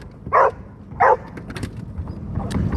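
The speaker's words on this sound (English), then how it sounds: "Hey, don't bark in my face like that." A dog gives two sharp, close barks about half a second apart, followed by quieter rustling and faint yips.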